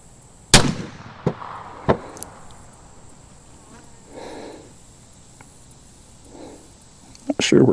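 A Cimarron Model 1860 Colt revolver fires round balls and conical bullets outdoors: a few sharp, separate cracks with short echoing tails, the first strongest, over a steady background of buzzing insects.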